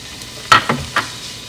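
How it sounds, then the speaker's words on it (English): Pancetta pan-frying in olive oil: a faint, steady sizzle, broken by a few short stirring clicks and scrapes in the pan. No talking is heard. "we're going to start with a 1/4 cup of pancetta, and we're going to pan fry it in olive oil for about 4 to 5 minutes"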